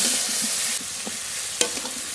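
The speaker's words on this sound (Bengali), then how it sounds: "টমেটো কুচি লবণ ভালো করে কষিয়ে নেব" Chopped tomato and salt are sautéed in a hot pan, giving a continuous close sizzle with scraping stirring strokes and a few sharper spatters, no voices.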